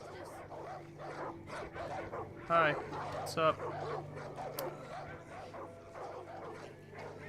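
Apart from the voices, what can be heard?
dog barking in video game Far Cry 5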